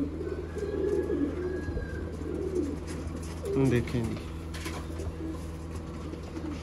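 Pigeon cooing from a bird offered for sale, soft low coos repeating through the clip beneath a steady background hum, with a louder burst of cooing near the middle and someone talking briefly over it.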